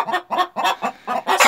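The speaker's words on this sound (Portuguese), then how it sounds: "Hoje eu tô mostrando para vocês aqui a festa que as galinhas fazem aí na hora de botar." Hens in a henhouse at laying time cluck and cackle loudly in close, rapid bursts, about six excited calls in quick succession with short gaps between them and no talking.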